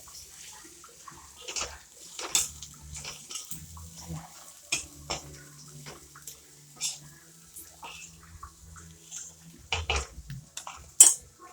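Bhakri crumbs and onion are stirred in a pan, giving scattered metallic clinks and scrapes of a utensil at uneven intervals, close but fairly quiet, with faint background hum.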